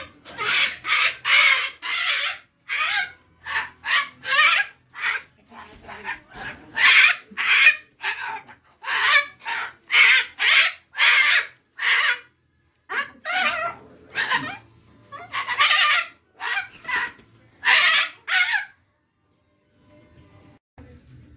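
Sun conure parrots in a large bird store screech again and again in loud, harsh bursts that come in quick rapid succession, close by, then stop near the end.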